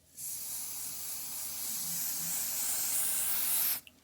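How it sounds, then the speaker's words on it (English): A steady hissing spray from a spray bottle, held for several seconds close to the microphone before cutting off abruptly. "Spray on the underside of this."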